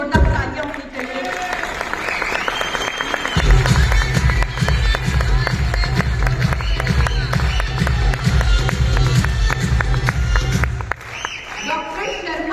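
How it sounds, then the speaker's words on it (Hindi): Audience at a Gama Hero company event in Nagpur applauding the chairman, Dr. A.R. Sharma; dense, sustained clapping from a large crowd that swells after a few seconds and holds steady with rhythmic beats underneath before fading near the end. "एक बार हमारे चेयरमैन डॉक्टर AR शर्मा के लिए जोरदार तालियां होनी चाहिए"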